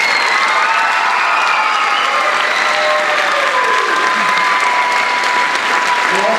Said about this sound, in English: Would you please give Miss Stars a round of applause?